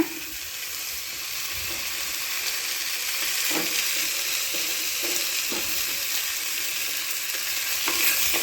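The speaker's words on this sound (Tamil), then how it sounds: "இதையும் சேர்த்து நல்லா வதக்கிக்கிங்க" Onion and tomato sauté in oil in a pan for a quail gravy, a steady close sizzle running throughout with a few soft stirring scrapes and clicks of a spoon against the pan.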